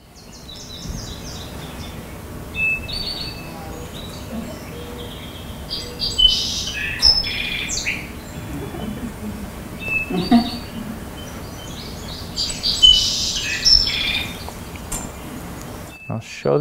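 A song sparrow singing outdoors, repeated bright chirping and trilled phrases in short bursts over a quiet background hiss, fairly close and clear, with faint low murmur beneath.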